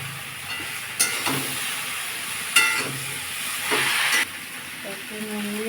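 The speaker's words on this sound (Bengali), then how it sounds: "সবজিটা একটু কষিয়ে নেবো" Vegetables with ginger sautéing in a hot pan, a steady close sizzle and hiss broken by a few louder stirring bursts.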